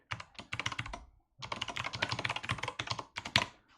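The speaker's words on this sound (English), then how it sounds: "And then I'm going to start typing hello world." Someone types on a computer keyboard while writing a Python hello world script: rapid clattering keystrokes in two bursts separated by a short pause, close and clear, with no voices.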